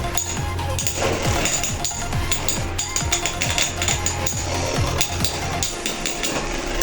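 Beyblade X tops, including Takara Tomy's Clock Mirage 9-65B, clash in a stadium battle, producing dense rapid metallic clicks and knocks with a steady whirring hum beneath, continuous and close.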